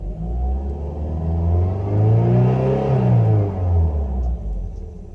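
Rear-mounted engine of a 1991 Toyota MR2 revs up and down in a loud, sustained swell, rising to a peak midway and easing off, heard alone without talk.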